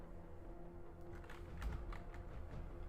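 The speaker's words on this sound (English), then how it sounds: "You guys like the clacking of my keyboard?" A computer keyboard clacks under steady typing, a quiet run of irregular key strikes that grows a little busier halfway through, set over a constant low electrical hum.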